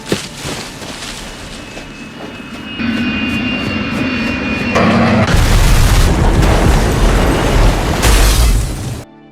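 A loud, roaring aircraft engine in a film's airplane crash builds in intensity and then cuts off abruptly, a heavy rumbling crash of noise with no speech.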